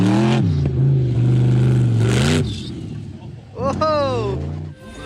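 A car engine held at high revs drones loud and steady, drops away, then climbs again through a few sharp rising revs close by.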